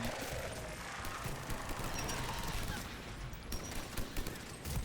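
Dense, continuous gunfire in the video game Mass Effect 3 rattles throughout, a loud, unbroken barrage of shots and battle noise with no clear pauses.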